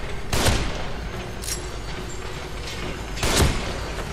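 Gunfire in the horror video game The Evil Within: two loud, booming shots about three seconds apart, with a fainter crack between them over a dense background rumble.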